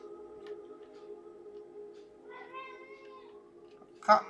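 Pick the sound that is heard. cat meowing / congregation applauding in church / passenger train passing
cat meowing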